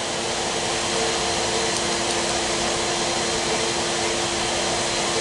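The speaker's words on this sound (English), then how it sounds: "I'm going to open up the valve to ensure that more coating comes through the gun and out the needle" A spray gun laying down a flood coat of speck countertop coating, a loud continuous airy hiss with a steady rushing tone and no breaks or talking.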